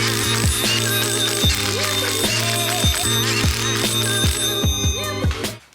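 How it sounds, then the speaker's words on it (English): A torque wrench tightening the flywheel bolts on a BMW S54 engine ratchets in repeated, evenly spaced pawl clicks. The rhythmic clicking is loud and close, with a faint metallic ring over the top, and it stops suddenly at the end. "You are torquing the flywheel to 70."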